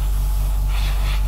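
Airbrush spraying weathering paint onto the underside of a scale model armoured vehicle, a steady close hiss in one short continuous burst.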